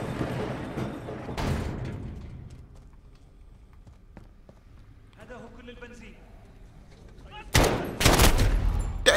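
Call of Duty Modern Warfare game audio with sharp gunfire bursts, one early and a heavy cluster near the end, with someone talking through the quieter middle stretch.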